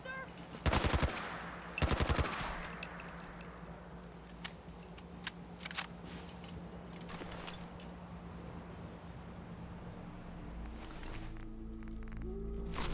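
Automatic gunfire in Fallout 4, two sharp bursts of rapid shots early on, followed by scattered single shots and clicks over a low steady hum, fairly close and fading into quieter game ambience.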